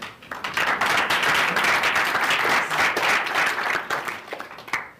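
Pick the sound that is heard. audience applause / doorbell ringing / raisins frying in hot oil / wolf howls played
audience applause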